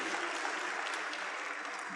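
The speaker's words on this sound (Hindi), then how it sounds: "अपने सबके लिए तालियां बजाइए" An audience at a learn-and-earn fest claps for everyone, a brief, soft, continuous patter of applause heard from a distance.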